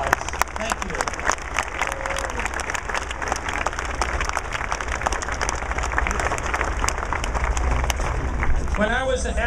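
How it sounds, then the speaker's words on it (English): An audience applauds at a prayer vigil outside Aurora City Hall, with dense sustained clapping throughout and a voice speaking under it near the end. "We appreciate it with a round of applause."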